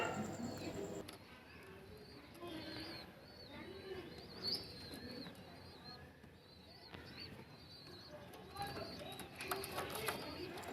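Pigeons of the Andhra breed, kept for sale, coo and chirp in a steady background murmur, with several birds calling at once and a voice talking intermittently over them.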